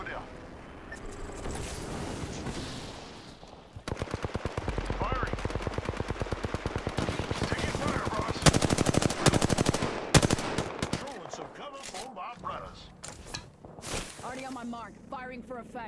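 Sustained close automatic gunfire in Apex Legends, a fast rattling stream of shots with heavier impacts midway, tapering into scattered game sounds, with voices talking over parts of it.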